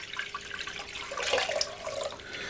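About 700 grams of lukewarm water pours into a bowl for making dough, a faint, steady splashing trickle that swells briefly in the middle.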